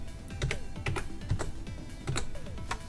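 Keys clatter on a computer keyboard as a command is typed at a prompt, a quick, uneven run of close, clear clicks with no voices.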